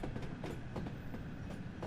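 An LMS Jubilee class steam locomotive in Train Sim World 2 rolls along with steady clickety-clack rail rhythm, fairly quiet and continuous, no talking.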